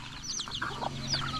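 A rooster clucks close by in a series of short, quick calls over a low background hum.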